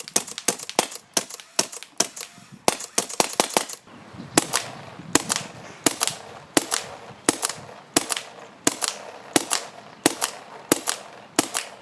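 A paintball gun fires rapidly, its sharp, snappy pops coming in a fast, steady stream close by, with a brief lull midway before the rhythmic shooting resumes.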